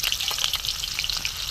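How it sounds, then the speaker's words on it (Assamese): Chopped onion frying in hot oil gives a steady, close, crackling sizzle that runs unbroken throughout, with no voices. "এতিয়া মই ধুনীয়াকৈ ভাজি লওঁ।"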